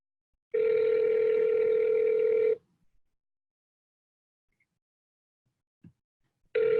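Steady telephone dial tone holds for about two seconds, then cuts to near silence before a second tone starts at the end, during outgoing calls in a live phone-dialing session.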